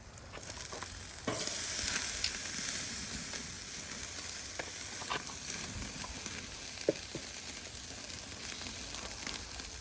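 Chicken halves sear over the coals of a Weber kettle grill with a steady crackling sizzle, joined by scattered clicks and scrapes of tongs, with a louder burst of sizzling near the start.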